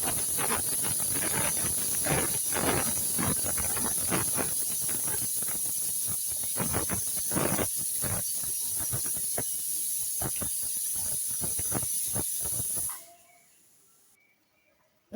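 A pressure cooker with country chicken inside hisses steam loudly and continuously, with rapid rattling bursts from the weight for about thirteen seconds before it cuts off to near silence.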